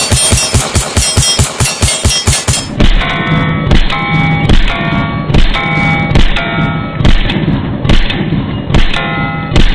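Pistol rounds from a Palmetto State Armory Dagger striking a steel target: a fast string of close, sharp shots, then evenly spaced metallic rings with lingering bell-like tones after each hit.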